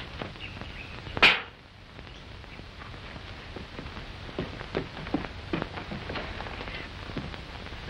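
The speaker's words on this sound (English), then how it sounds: "looks like rain." Rain pattering steadily on surfaces in a 1940s comedy scene, an even hiss with scattered drop ticks, opened by a sharp whipping crack near the start.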